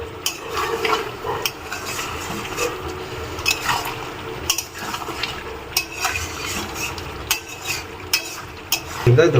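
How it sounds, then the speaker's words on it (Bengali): Chicken with yogurt and fried potato pieces being stir-fried in a pan, a steady sizzle broken by repeated scraping and clinking of a spatula against the metal, close and fairly loud with no talking. "ছ পিস আলু সেটা আমি দিয়ে দেব সেটা দিয়ে আমি আর একটুখানি কষাবো"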